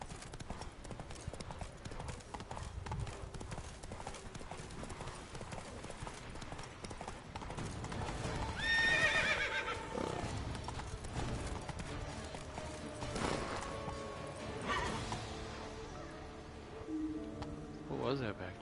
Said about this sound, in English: that's me riding a wild horse.